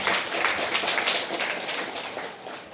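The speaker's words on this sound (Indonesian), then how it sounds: "Tepuk tangan buat bunda dari kakak kita yang ada hari ini." An audience at a parenting seminar in an Islamic boarding school in Serang claps together in a dense, crackling burst of applause that gradually tapers off.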